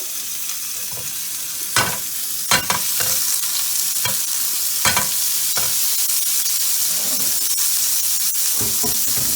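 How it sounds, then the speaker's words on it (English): Chicken skewers sizzle steadily in a hot pan, a constant hiss broken by sharp clicks and taps of utensils stirring and turning. "So you can hear the sizzle."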